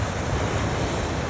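Ocean surf from a hurricane-driven south swell rolls in steadily off Wailea Point on Maui, a continuous broadband wash of breaking waves with wind rumble, no voices.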